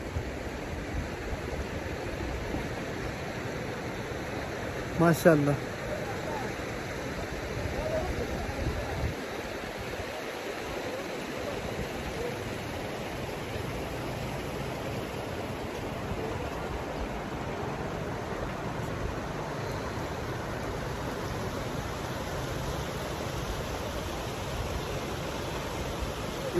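A mountain river in Kumrat Valley, Swat, rushes in a steady, even hiss of flowing water that fills the whole stretch, with a brief voice and a short knock near the start.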